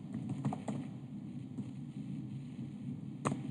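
A computer keyboard being typed on, a few scattered soft key clacks close by, quiet and sparse, with one louder tap near the end.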